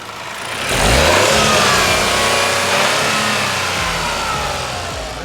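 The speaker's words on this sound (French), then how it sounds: "un petit bruit de 3 cylindres" A Toyota GR Yaris three-cylinder engine revs up sharply and holds a loud, steady accelerating drone close by, the pitch sweeping and easing without any voices.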